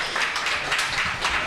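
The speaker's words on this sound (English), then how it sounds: "Let's have a May big Day. round of applause for Mike Klonsky." A studio audience gives a brief, loud round of applause for Mike Klonsky on a live radio show, a dense wash of clapping that carries on without pause.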